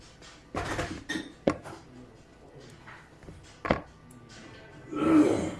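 A spoon clinks and scrapes against a bowl while liver cake filling is mixed, with sharp knocks and a longer scraping rush toward the end, close and intermittent.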